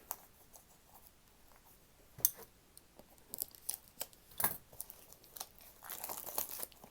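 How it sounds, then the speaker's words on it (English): Scissors snip and crinkle through the plastic wrapping of a Magic: The Gathering Double Masters VIP card pack, a faint, close run of small cuts and crackles that grows busier and louder toward the end. "Learn how to use scissors to cut plastic."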